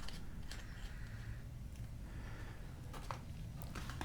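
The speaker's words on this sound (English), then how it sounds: "so now I can put the case back on" A watch case back being screwed on by hand, small creaking and grinding mechanical friction with faint clicks, close and quiet against a steady background hum.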